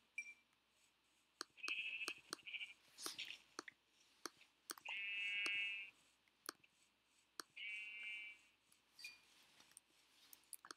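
Minecraft sheep bleat in three separate calls, each a short nasal tone amid clicking game sounds and soft background, fairly quiet and close.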